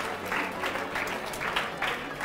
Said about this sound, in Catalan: Aplaudim, aplaudim aquests quatre centres educatius